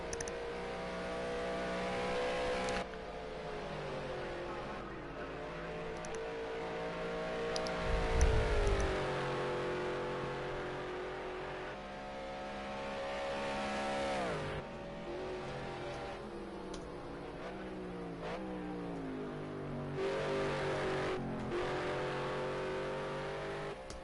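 Race cars in a racing video game at Road America roar past one after another, engines rising and falling through gear changes at moderate loudness for a sustained stretch.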